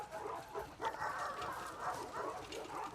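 A shepherd dog in The Last of Us Part II yipping and whining excitedly in short repeated bursts, moderately close over a soft game background.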